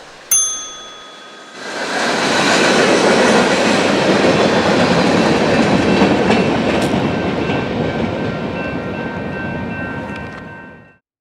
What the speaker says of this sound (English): a local heads north on Main 1 with another good EMD duo